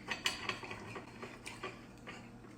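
A knife clicks and taps against a plate while cutting through stacked carrot cake waffles, a faint irregular series of sharp ticks and scrapes, close by, without speech.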